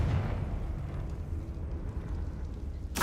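A Confringo fire spell goes off in Hogwarts Legacy, a heavy rumbling blast with a low roar that settles into a steady crackle, then a sharp burst at the very end.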